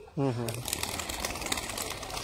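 A pigeon coos once, a short low call near the start, kept at a workshop where birds are housed; a steady broadband background hiss runs on after it, with no other birds evident.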